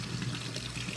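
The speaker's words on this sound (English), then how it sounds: "the first thing you're going to want to do is obviously wash your potatoes" Tap water runs steadily while russet potatoes are washed, making a continuous close splashing rush with no other sounds.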